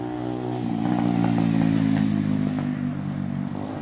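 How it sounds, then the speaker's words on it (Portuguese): A motorcycle engine drones steadily nearby, its tone rising and falling slightly as it rolls past, with faint clatter over the top. "Deixa eu só passar essa moto."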